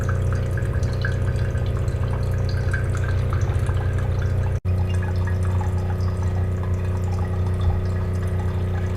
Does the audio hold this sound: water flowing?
yes